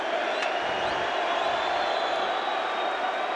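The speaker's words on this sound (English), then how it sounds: "the crowd applauds the work of Belfour to start this third period" Steady roar of an arena hockey crowd applauding goalie Ed Belfour early in a third period of a 1994 Stanley Cup playoff game between the Toronto Maple Leafs and the Chicago Blackhawks, loud and continuous throughout.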